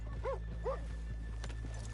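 Hooves clip-clop in a slow, uneven walking rhythm in the video game Red Dead Redemption 2, with a couple of short horse snorts or whinny-like tones over a constant low hum.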